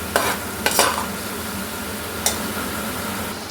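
Three green chillies frying in oil, a steady sizzle under a few sharp scraping strokes of a spoon against the pan, heard close with no talking.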